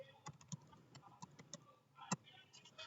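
Irregular, faint clicks of keys being pressed on a computer keyboard while a command is typed, close and sparse with short pauses and one sharper tap.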